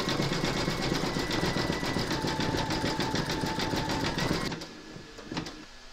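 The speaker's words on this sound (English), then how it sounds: "Load a white thread into your machine for the white of the eyes, and then you're going to stitch round number seven." An embroidery machine stitches the white of appliqué eyes on a large in-the-hoop scarecrow, a loud, continuous rapid hammering run close by that stops abruptly near the end, followed by a couple of faint clicks.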